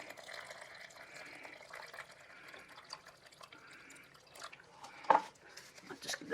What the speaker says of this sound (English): so I've got my water. In we go.